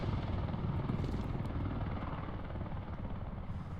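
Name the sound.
helicopter in a video game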